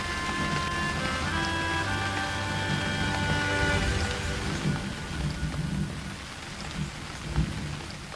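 Heavy rain pours onto surfaces while thunder rumbles, loud and continuous, with a deep roll early on that fades into a steady hiss of downpour and a few sharper drop hits.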